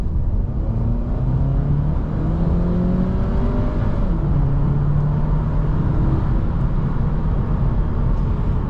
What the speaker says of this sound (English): So we're going to get up to about 25 miles an hour, mash the throttle, and see what the transmission does.